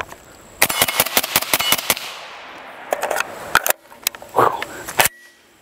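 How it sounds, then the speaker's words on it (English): Rifle fitted with a Trijicon ACOG scope firing out its magazine, a rapid string of loud close shots, then a pause and a few more separated shots. "Let's just go ahead and finish the mag out."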